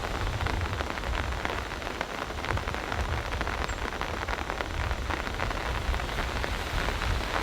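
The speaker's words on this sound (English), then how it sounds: "The rain is picking up." Heavy rain drumming on a tent pitched in a forest, a dense, continuous patter of countless drops, loud and close with no let-up.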